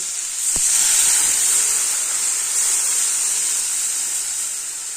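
Water poured into a pan of fried shrimp and onions, setting off a loud, steady hiss of sizzling steam that starts with a quick splash and holds for several seconds.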